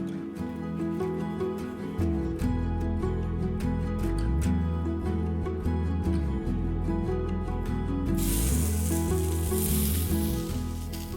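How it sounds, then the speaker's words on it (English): Tofu seasoned with salt and pepper sears in a hot pan, giving a steady close sizzle and crackle that runs throughout, with small pops and clinks layered over it. "I'm making a simple wrap simply by searing some tofu with some salt and pepper"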